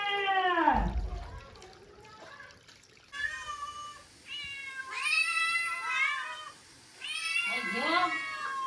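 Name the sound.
cat meowing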